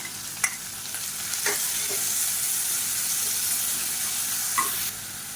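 Chopped onion, green chili and curry leaves sizzle steadily in a pan, with a few sharp clicks and scrapes of stirring, close and continuous.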